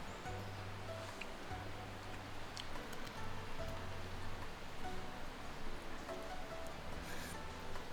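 Steady rain falls outdoors as a soft, even wash of patter, with a low hum and a few faint clicks underneath.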